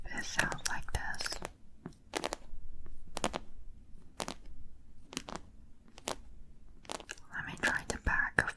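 Fingernail tips tapping on a rhinestone sheet, a series of sharp, close clicks in uneven bursts, quiet overall, with soft whispering at the start and end.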